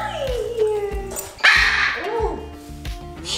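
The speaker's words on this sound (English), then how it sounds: "I need to do one thing because my dog's crying." A pet dog whimpers and cries in high, wavering whines, heard close alongside the squawks of macaws and a person talking.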